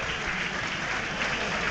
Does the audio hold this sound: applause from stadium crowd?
yes